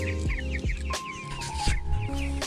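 Pastured chickens out on fresh grass cluck and murmur close by in a busy, overlapping chorus, with brief higher calls rising over low background noise.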